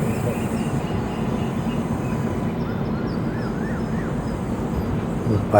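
The Simhadri Express, train 17239, rolls along near Mangalagiri with a steady rumbling clatter of wheels and wagons, continuous and close, with a brief thump at the end.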